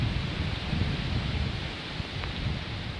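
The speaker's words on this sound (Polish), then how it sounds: "Ale wiatr wieje." Outdoor wind blusters steadily at an archery range with a 25-metre target, a broad, rough rumble buffeting close to the microphone with no voices heard.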